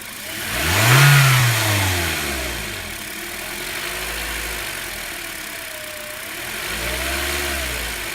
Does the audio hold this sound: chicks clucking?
no